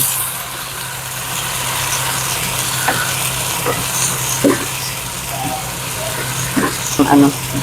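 Sardines and onions frying loudly in a pan, a steady dense sizzle throughout with occasional clinks and scrapes from stirring, a low hum underneath.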